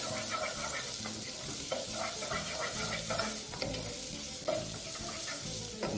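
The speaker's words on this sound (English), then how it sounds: "All you want to do at this stage is just continue to fry your onions" Onions frying in a pan until translucent for tomato soup, a continuous close sizzle with rhythmic spoon-stirring scrapes and clinks throughout.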